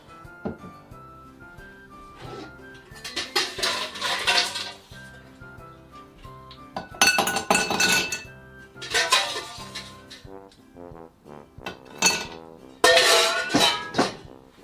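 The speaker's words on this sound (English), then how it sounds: "get our ice and pour it straight into a rocks glass" Ice clinking and rattling into a rocks glass as a cocktail is started, several bright bursts of tumbling cubes separated by pauses, close and fairly loud.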